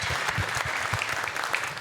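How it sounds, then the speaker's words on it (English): An audience claps in a steady, dense burst of applause, fairly loud and continuous, with no voices standing out. "First, a big round of applause to the team at SVG Europe."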